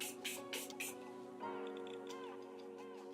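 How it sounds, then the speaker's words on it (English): Makeup setting spray hisses out in three or four quick, soft bursts near the face, followed by quieter tonal background sound. "I'm gonna set everything in place with this setting spray."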